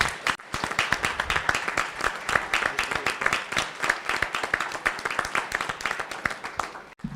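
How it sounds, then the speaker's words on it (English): Sustained applause from an audience at a school board meeting honoring Science Olympiad students, many hands clapping steadily and fairly loud for about seven seconds, with a few faint voices underneath. "let's give our Science Olympiad students another round of applause"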